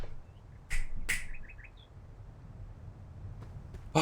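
Small birds chirp outdoors in a few short, quick trilling notes, moderately close and clear against a low background rumble, with a couple of sharp taps scattered around them.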